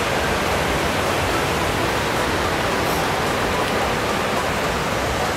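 A river rushes steadily beside a hiking trail near Nairn Falls in British Columbia, a loud, dense and unbroken roar of moving water close by, with no voices.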